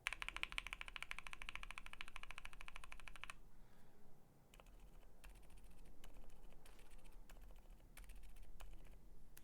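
Keystrokes on Durock silent mechanical keyboard switches, rapid and dense at first, then thinning to sparse, soft, muted clicks with a low background hum.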